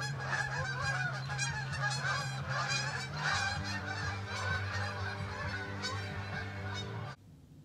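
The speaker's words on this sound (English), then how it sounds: "we have footage of a big flock of geese moving right now" Many geese honk together in a dense, overlapping chorus, loud and continuous, then cut off abruptly.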